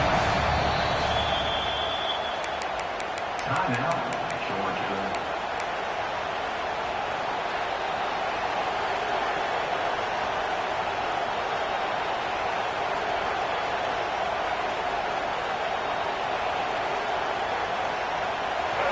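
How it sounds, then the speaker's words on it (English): A stadium crowd in a college football video game against Georgia roars as a loud, steady wash of noise that holds for a long stretch, with a brief announcer voice near the start. "Decibels rising as the crowd gets behind this defense on 3rd down."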